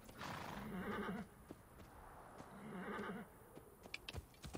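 Horse whinnying with clip-clopping hooves in the video game Assassin's Creed Origins, two drawn-out neighs followed by scattered hoof clops, fairly faint overall with no talking.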